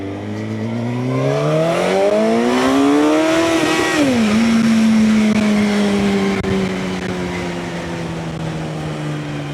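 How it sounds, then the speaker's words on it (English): A Suzuki GSX-R750 motorcycle engine revs up with a rising whine, drops as the gear shifts, then holds a steady drone, loud and close. "little bit of engine noise for you."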